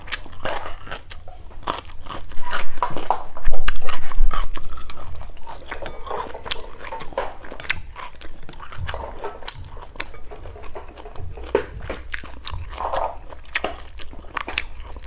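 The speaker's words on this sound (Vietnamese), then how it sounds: "Nhai mấy cái mề này mỏi miệng luôn cô chú" Someone chews tough grilled chicken gizzards from a big bowl of noodle soup, with loud, close biting and crunching, repeated wet mastication sounds and occasional slurps, and no talking.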